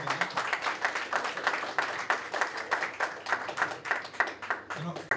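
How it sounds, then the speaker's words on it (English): Audience applause at a small coffee-and-conversation group session on stress management, a brisk, fairly close burst of many hands clapping steadily throughout, without speech over it. "So I guess a big round of applause."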